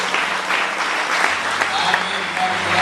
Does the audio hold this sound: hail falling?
no